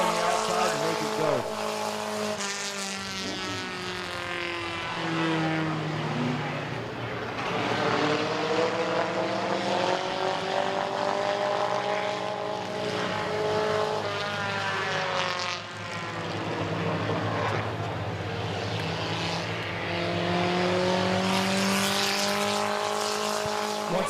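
Race trucks roar around the Midvale Speedway oval during a heat race, several engines rising and falling in pitch as they pass, loud and continuous with a faint announcer voice underneath.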